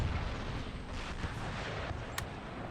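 Grenade blasts and gunfire rumble through an Empire: Total War battle, a dense, continuous low roar of distant explosions and shots with one brief sharp crack standing out near the end.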